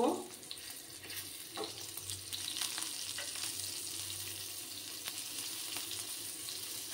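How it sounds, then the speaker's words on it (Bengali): Slit green chillies fry briefly in hot oil in a pan for rui fish posto, a loud initial burst settling into a steady crackling sizzle with occasional light stirring, no voices. "দু 3 সেকেন্ডের মতো আমি একটু ভেজে নেব"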